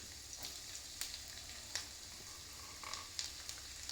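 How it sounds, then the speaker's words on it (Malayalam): Chopped garlic and ginger crackle in hot sesame oil for a mango pickle, a steady soft sizzle with scattered sharper pops and spatters throughout. "ഈ നല്ലെണ്ണയിലേക്ക് നമുക്ക് ഈ നുറുക്കി വെച്ച വെളുത്തുള്ളി ഇഞ്ചിയും കൂടി ഇട്ട് കൊടുക്കാം"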